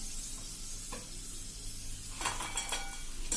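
Purple yam (ratalu) pieces frying in hot oil, a steady close sizzle with bright crackling bursts toward the end and a brief stir or utensil tap partway through, no voices.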